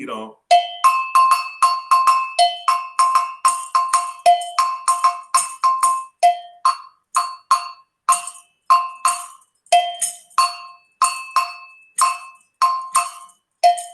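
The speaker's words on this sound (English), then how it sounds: "So you will have a bell player playing like," A West African drumming bell is struck in a steady, fast repeating pattern, bright metallic clanks ringing close and clear, each hit decaying quickly, with no voices over it.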